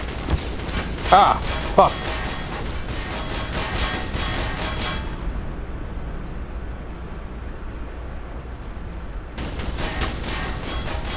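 A tank firing in the video game Black Mesa: loud bursts of gunfire and blasts crackling under a player's shouted exclamations, then a stretch of muffled rumble before the noisy firing returns.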